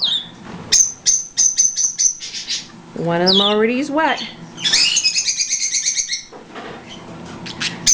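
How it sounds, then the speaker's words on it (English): A lovebird and baby budgies at a bath tub let out bursts of sharp chirps and a long rising squawk, close and loud, while a person talks over them now and then. "You have to have a lovebird go and be loud."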